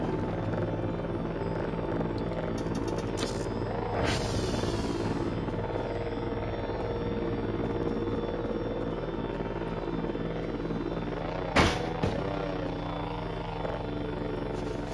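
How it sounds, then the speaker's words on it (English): A drone in the video game Voices of the Void drones steadily overhead, a continuous loud rotor-like hum with a couple of brief sharper swells partway through, and no talking. "I think I hear the drone."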